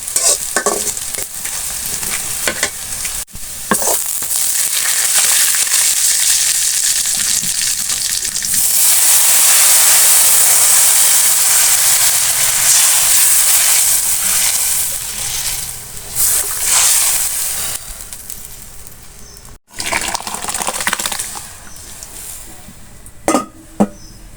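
Dal tempering with onion, garlic, cumin and dried chili in hot oil, a loud continuous hissing sizzle that swells in the middle, punctuated by spatula clinks against the pot, close and with no speech.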